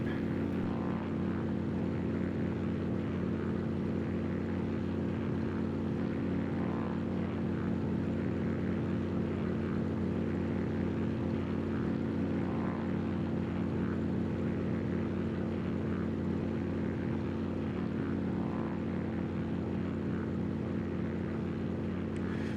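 Steady, continuous propeller drone and engine hum of a Stinson 108-3 light aircraft in flight in the X-Plane 12 simulator over the James River, Virginia, loud and unbroken throughout with no talking.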